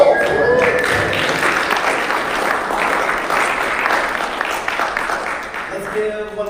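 Conference audience at Objective by the Sea 3.0 giving the speakers a round of applause, loud, thick and sustained clapping that thins out near the end as a voice begins.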